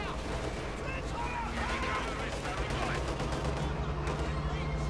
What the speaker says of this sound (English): Howitzer. Really impressive barrage, but really lousy results.